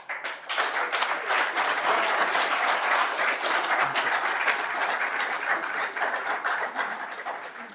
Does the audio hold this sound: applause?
yes